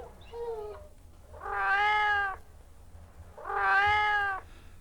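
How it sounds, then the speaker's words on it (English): A domestic cat meows three times, each call drawn out and rising then falling, with short pauses between, heard close and clear with no other sounds. "Cats, though, sound pretty much alike."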